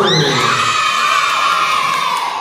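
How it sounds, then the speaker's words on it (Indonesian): Schoolchildren at an elementary school closing ceremony cheer and shout loudly as a crowd, a dense sustained roar of young voices filling the whole moment. "Tepuk tangan untuk kelas 1."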